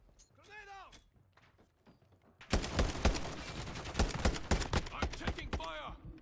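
Rapid gunfire erupts in a video game team deathmatch, a dense burst of sharp repeated shots and thuds lasting several seconds. Quieter game sounds and voices come before the burst, and some sounds return as it ends.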